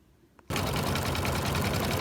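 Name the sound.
embroidery machine sewing down bootie top in the hoop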